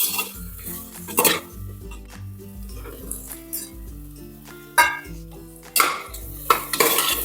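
A spoon mixes paneer masala and salt in a pot, producing irregular metallic clanks and scrapes close by, with a few sharper knocks among quieter stirring.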